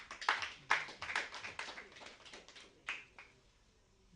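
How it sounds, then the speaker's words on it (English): An audience at a social entrepreneurship symposium claps for a panelist being introduced: a cluster of quick, close claps that thins into scattered, fading hand strikes with a few late claps near the end. "Please clap."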